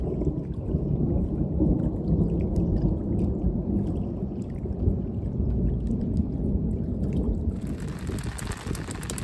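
Deep, continuous rumbling thunder during a storm on a September canoe trip in the Boundary Waters wilderness, a steady, heavy roll lasting the whole stretch with a hissing wash of rain rising near the end.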